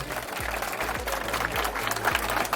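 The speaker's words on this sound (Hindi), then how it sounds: "जोरदार तालियां दो सर के लिए।" An audience at an outdoor community event claps in a steady, dense burst of applause that continues throughout.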